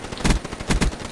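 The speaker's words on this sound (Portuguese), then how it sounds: "Tá rolando altos tiros." Gunfire in Black Ops III, a few sharp close shots cracking in quick succession, loud and punchy, with no voices over them.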